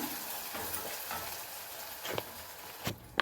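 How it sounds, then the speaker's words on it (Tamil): Ginger garlic paste frying in a pan for a greens chicken gravy, a continuous crackling sizzle with intermittent scrapes of a stirring spoon and a couple of louder clinks toward the end, no speech. "இஞ்சி பூண்டு போட்டு கொஞ்சம் நல்லா கலந்துட்டு"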